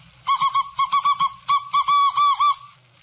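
Morse code sent by an amateur radio operator, a clean keyed tone beeping out short dots and longer dashes in quick, clear groups, alone against a quiet background.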